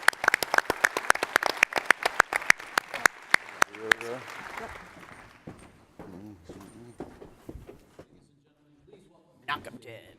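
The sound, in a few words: applause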